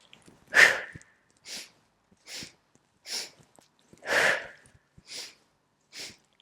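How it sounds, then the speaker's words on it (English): Quick, fluid sniffing inhales taken as a breathing exercise, split into short bursts: a handful of sharp nasal sniffs spaced about a second apart, close and clear with silence between them. "Separate those inhales into 3. Kind of fluid, fast sniffs."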